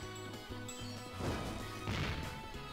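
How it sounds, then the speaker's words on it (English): Video game Monster Boy: a butt smash attack on a cloud gives a series of crunchy smashing impacts, two heavier bursts standing out amid busy game sounds. "I don't regret butt smashing that last cloud."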